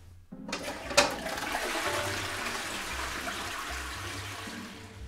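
A toilet flushes in a bathroom, with a sharp onset followed by a loud, steady rush and swirl of water that continues near the microphone to the end, no talking.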